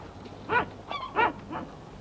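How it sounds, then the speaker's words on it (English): A dog at the seaside gives four short barks at even intervals against a faint background hum, fairly quiet and alone. "There was a dog barking at the sea."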